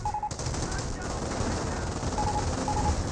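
A .30 cal machine gun fires in a Company of Heroes battle. The rapid fire is sustained and dense, blending with the surrounding combat noise.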